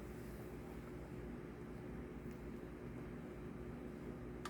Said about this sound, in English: Sorry about the fan in the background, but it's hot in here.